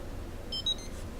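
A Futaba 8FG RC radio transmitter gives a few short, faint electronic beeps as it powers on, thin tones over a steady background hum.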